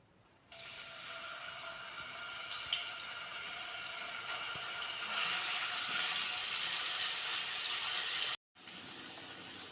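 Ginger garlic paste dropped into hot oil in a pan, bursting into a close, steady hissing sizzle that grows louder midway, then stops for a moment and resumes.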